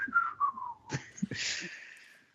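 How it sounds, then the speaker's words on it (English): A person whistles a short wandering tune, sliding down in pitch, then a higher sustained whistle that trails off, close and fairly soft. "starts whistling"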